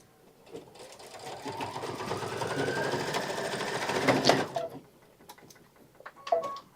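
A Kimberbell embroidery machine quilts a fabric block with a steady, rapid needle chatter that builds and holds for several seconds, then stops, followed by a few faint clicks close by.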